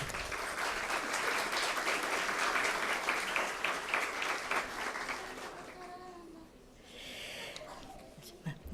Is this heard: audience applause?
yes